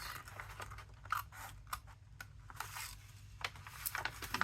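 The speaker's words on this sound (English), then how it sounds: "Mostly I'm going to rely on pencil and ruler and eye and scissors to cut." Close, crisp snips of scissors cutting through coffee-dyed paper, several separate cuts at an uneven pace with quiet rustling between them.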